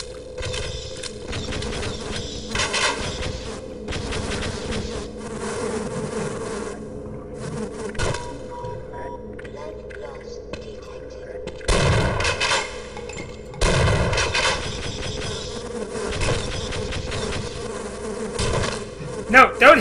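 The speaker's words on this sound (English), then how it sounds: "No, don't hit me, bees." Bees in the game Half-Life keep up a steady, loud insect buzz, with sharp impacts and bursts of gunfire cutting through the drone at intervals.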